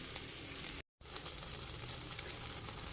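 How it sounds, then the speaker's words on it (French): Pepper strips caramelizing in a frying pan give a steady, close sizzle throughout, broken by one brief gap of silence near the start. "on les fait caraméliser comme les oignons"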